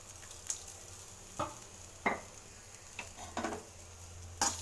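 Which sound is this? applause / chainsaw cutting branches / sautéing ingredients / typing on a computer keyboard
sautéing ingredients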